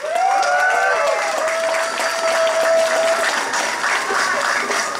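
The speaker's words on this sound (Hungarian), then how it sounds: "köszöntsétek tapsal!" An outdoor crowd at a speech applauds to welcome the next speaker, sustained clapping with some cheering and a held whistle or tonal cry over it early on.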